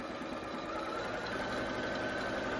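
A sewing machine runs its circle sew feature with a pin set in the fabric, giving a steady, close, continuous mechanical hum and whir throughout.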